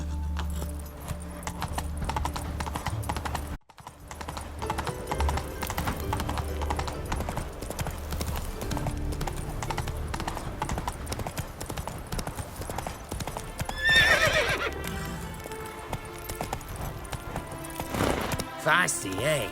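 Roach, Geralt's horse in The Witcher 3, clip-clops steadily at a trot with a brief whinny partway through, hooves close and rhythmic over game ambience, with occasional combat sounds and talking.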